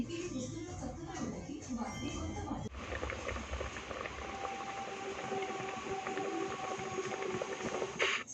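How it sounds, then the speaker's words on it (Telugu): Water with prawns bubbles at a steady rolling boil in a pot, a continuous close simmering hiss with a short burst of other noise at the start. "ఒక పది నిమిషాలు అయితే రొయ్యలని అయితే ఉడకపెట్టుకోవాలి"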